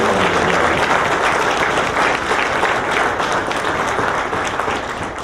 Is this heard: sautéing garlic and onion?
no